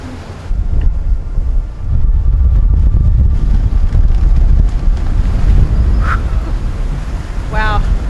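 Strong wind gusting across the microphone on a sailing boat at sea, a loud continuous roar with surging gusts and brief bright creaks or squeaks near the end, no speech over it.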